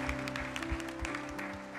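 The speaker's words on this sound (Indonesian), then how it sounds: "Kasih tepuk tangan luar biasa di hadapan Tuhan." A church congregation applauds during a worship service, with dense steady clapping and a sustained musical tone underneath, moderately loud and continuous for the whole moment.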